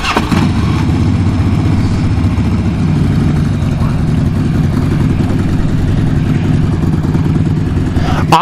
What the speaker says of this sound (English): Isla's going to fire it up for us real quick.